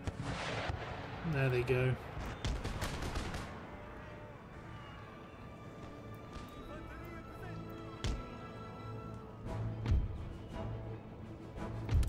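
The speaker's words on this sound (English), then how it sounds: "both bombard the Hessian foot units" Artillery bombardment and musket gunfire in Empire Total War: guns fire on Hessian foot units in a battle, with a few sharp booms and scattered shots over a steady battlefield din while someone talks.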